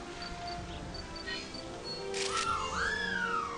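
A Pokemon in the Pokemon Snap video game gives a whistling call, a couple of sliding, rising-and-falling whistled tones over soft game ambience and background tones.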